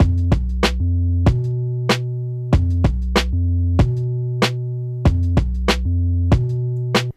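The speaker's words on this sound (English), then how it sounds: "So with the kick and the snare and the bass, it sounds like this." Punchy kick drum and snare locked to a deep repeating bass line, a tight looping pattern with sharp snare cracks at regular intervals, upfront and alone for several bars.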